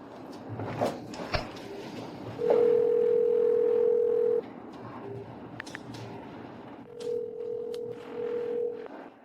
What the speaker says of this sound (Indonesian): Angkat teleponnya, Qin Zhao.